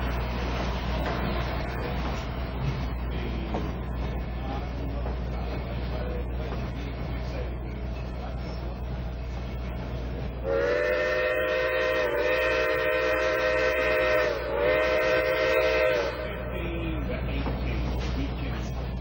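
A steam train rumbles steadily nearby on an old railroad line between Palestine and Rusk, Texas, then its whistle sounds two long, loud blasts with a brief gap between them.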